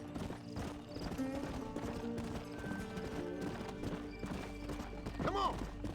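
Horse hooves clip-clop at a walking pace in the Red Dead Redemption video game, moderately close, with a short whinny near the end over a soft game background.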